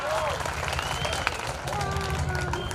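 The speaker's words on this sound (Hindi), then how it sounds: "एक बार जोरदार तालियां।" Applause from a college audience at a stage programme in Pamgarh, Chhattisgarh, rattles on steadily under background music and a faint voice, fairly dense but not very loud.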